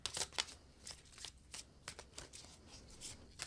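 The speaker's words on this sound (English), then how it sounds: "I'm going to draw from oracle cards now to add another layer to this reading here" Oracle cards being shuffled by hand in a quiet room, a run of crisp, papery riffles and flicks in uneven bursts, close and fairly soft, with no talking.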